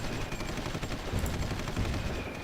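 Steady artillery fire from a Supreme Ruler Ultimate battle on the Texas front, a faint, continuous crackle of distant shelling with no talking.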